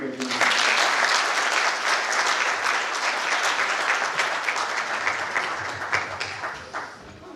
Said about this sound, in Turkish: kocaman alkışlarınızı bir kez daha istiyoruz